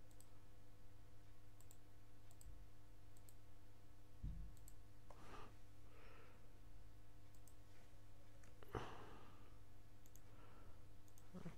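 A computer mouse clicking while cutting and pasting cells in a spreadsheet, a few sparse, faint clicks spread over a quiet, humming background, with no one speaking.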